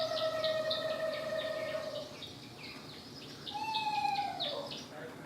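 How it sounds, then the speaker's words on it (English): A recorded bird call plays from a sound tile set in the floor of a nature discovery center exhibit, a couple of thin whistled notes sounding faint and somewhat distant over quiet room ambience. "when you step on the tile, you'll hear a sound of that bird"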